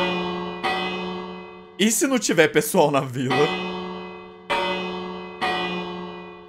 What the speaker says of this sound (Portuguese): Amor, o que acontece se eu bater o sino?